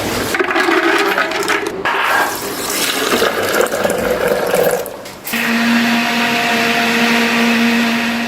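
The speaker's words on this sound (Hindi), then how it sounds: "तो यहाँ पर मैंने बादाम का पेस्ट बना लिया है।" An electric blender grinds peeled almonds with water into paste, a loud close whirring with uneven churning surges that cuts off briefly, then settles into a steady, even hum.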